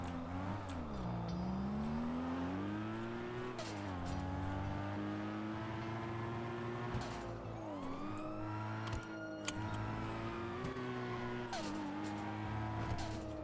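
Car engine droning and shifting pitch steadily while driving in a GTA roleplay game, with rising and falling revs and a few brief skids throughout, loud and continuous with no talk.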